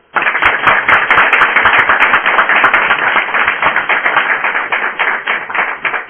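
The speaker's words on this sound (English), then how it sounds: "I want applause." An audience at a Chanukah party applauds, with dense, steady clapping that holds loud and even from start to finish.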